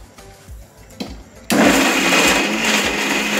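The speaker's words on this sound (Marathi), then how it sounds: "चला तर मग आता मिक्सर मध्ये आपण हे मसाले बारीक करून घेऊया।" A kitchen mixer grinder grinding roasted spices with ginger, garlic, onion and dry coconut, starting abruptly after a few small clicks and then whirring loud and steady to the end.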